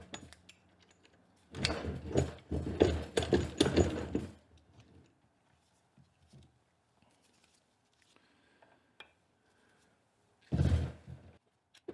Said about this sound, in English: let's see if we can't just clamp down on the taper, and from there we can pop out that chuck.